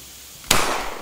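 A shot fired into copper wires lets out one sudden sharp crack partway through, followed by a loud, hissing, crackling burst that carries on to the end. The sound is close and there is no talking.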